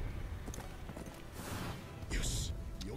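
Horse hooves clip-clopping in an Attack on Titan anime episode, a few light irregular hoof hits with a swish, faint under background noise.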